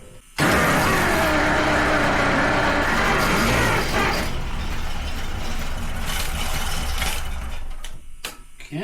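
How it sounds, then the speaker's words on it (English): A 100-year-old moonshiner's car engine that sat parked for 55 years, revving loudly and roughly up close, a dense sustained roar that swells early, then settles and fades unevenly toward the end. "Rev up."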